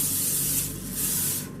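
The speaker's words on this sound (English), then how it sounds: "we're going to put a little cooking spray in there" Cooking spray hisses steadily into a baking pan for a meat loaf dinner, one continuous close spray lasting the whole moment with no talk.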